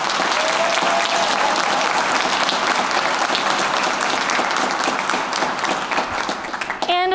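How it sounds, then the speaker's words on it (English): A school spring concert audience applauding, dense steady clapping from a large crowd that fills the room and begins to thin toward the end, with a few voices mixed in. "so please give him a big round of applause"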